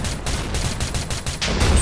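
Rapid bursts of Minecraft gunfire crackle in a dense, repeated volley, loud and close, followed by a sharper blast at the end.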